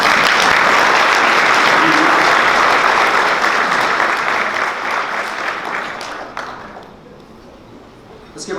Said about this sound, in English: Let's give our board president one more round of applause.